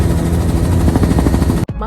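A helicopter flies over New York, giving a loud, continuous rotor chop with a fast, pulsing beat that stops abruptly near the end.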